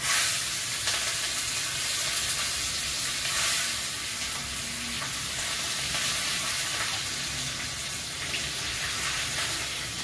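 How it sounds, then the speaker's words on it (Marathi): Mustard seeds, cumin and green chili crackle in hot oil for a tempering, a dense continuous hiss and spatter at close range with no voices. "1 चमचा मोहरी, 2 चमचे जिऱ्याचे आणि हिरवी मिरची टाकणार आहे।"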